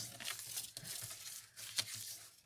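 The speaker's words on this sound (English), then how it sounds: "You have to cut a bit off it" Scissors cutting paper for a handmade Christmas card, a soft crinkling snip with a sharper crisp cut near the end, close by and quiet, with no one talking.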